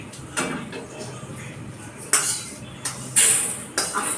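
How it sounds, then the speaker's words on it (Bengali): A pot of water for tea set onto a stove, producing a few sharp metallic clanks and clinks at irregular intervals close by, with quiet kitchen rustling between them. "চায়ের জলটা চাপিয়ে দিচ্ছি"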